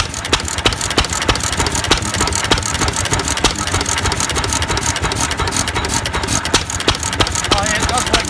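Old petrol engine at a family collection open day, running steadily after switching to the main tank, with a loud continuous rumble and regular rapid ticking beats, close up.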